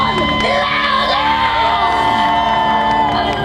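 A theme-park show audience at Disney's Hollywood Studios screams, whoops and cheers loudly and continuously, a dense crowd roar with overlapping yells filling the whole stretch.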